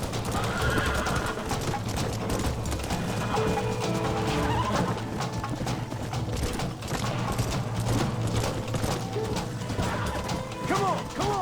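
Horses in the Red Dead Redemption video game on PS5 whinny while hooves clatter amid a busy, continuous mix of crashes and commotion, with occasional shouted voices.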